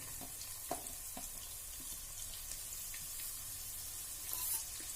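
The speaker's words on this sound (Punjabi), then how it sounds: "ਹਲਕਾ ਜਿਹਾ ਪਹਿਲਾਂ ਇਹਨੂੰ ਭੁੰਨਾਂਗੇ ਬਹੁਤ ਜ਼ਿਆਦਾ ਆਪਾਂ ਇਹਨੂੰ ਕਾਲਾ ਵੀ ਨਹੀਂ ਕਰਨਾ" Garlic cloves roasting in oil in a pan for a carrot and cauliflower pickle, a faint even sizzle with a few light taps of stirring, close but quiet, no talk.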